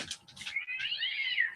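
A phone notification tone that mimics a cat's meow plays quietly: a couple of quick chirps, then a longer rising and falling mew-like call.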